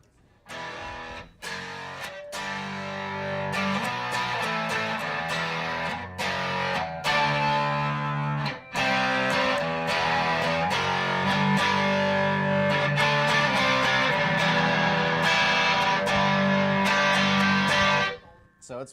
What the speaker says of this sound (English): So it can definitely act as a distortion, not distortion, but a higher gain overdrive on its own.